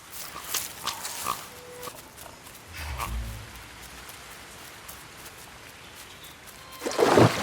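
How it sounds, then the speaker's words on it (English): A pig eating fruit in the video game The Last Campfire, heard as several short grunts and oinks, then a low snorting rumble midway, over a soft rain-like background hiss, ending in a louder burst of game sound. "The pig devoured the fruit with careless abandon."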